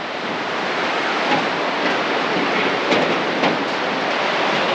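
A mountain river runs below a trekking path between Kasol and Chalal, heard as a steady, broad rushing wash that stays even throughout with no voices.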